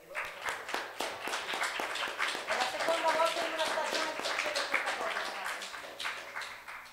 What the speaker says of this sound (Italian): Un applauso al pulsante.